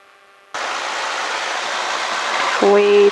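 An aircraft engine throttles up on a runway with the brakes set, its broadband roar jumping in abruptly and building steadily, then a brief tonal hum rising near the end.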